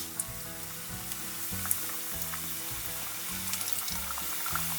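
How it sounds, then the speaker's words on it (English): Seasoned barracuda or snapper pieces deep-fry in oil at about 370 degrees, giving a continuous bubbling sizzle with scattered pops, close and moderately loud under a low repeating hum. "Now we'll take it and just lay them right in the oil. Oil's at about 370 degrees."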